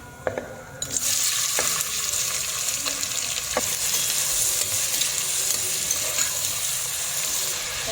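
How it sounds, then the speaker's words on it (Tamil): Chopped onions sizzle loudly in hot oil in a pan for chicken biryani, a steady bright frying hiss that starts abruptly as they go in, with occasional stirring scrapes, close up and no speech. "இந்த வெங்காயத்தை இதில் கொட்டி நல்லா வணக்கலாம்."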